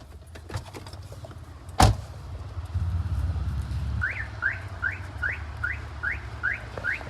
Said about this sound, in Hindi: अब खाना खिलाने वाली गाड़ी आ गई है